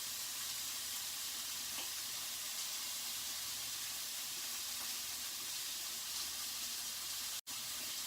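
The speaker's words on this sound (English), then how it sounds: "we have a really nice sear on one side and it's looking really good" Steak searing in a hot pan, a steady close sizzle and hiss throughout with no talking, a brief dropout near the end.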